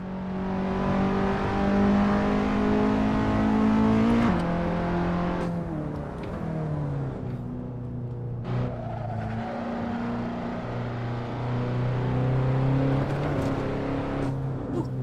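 A race car engine in a racing video game set at Sebring drones steadily in a low gear, its pitch sweeping up and down with revving and shifts, loud and continuous with no talking.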